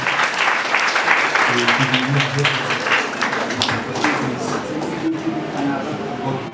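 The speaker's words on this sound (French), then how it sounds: "On continue à applaudir le serviteur" A church congregation at an anniversary service applauds a servant, dense sustained clapping filling the hall while a voice talks over it, fading slightly toward the end.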